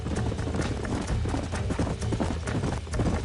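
Several horses trotting in the video game Red Dead Redemption on PS5, a continuous rhythmic clip-clop of hooves over a dense, busy background, with a brief whinny blending in.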